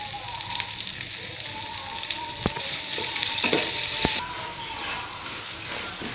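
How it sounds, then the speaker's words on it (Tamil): Onions sauté with powdered salt in a pan, crackling and hissing steadily up close, with a few distinct knocks of a stirring spoon and no voices. "வெங்காயம் நல்லா வணங்கட்டும்"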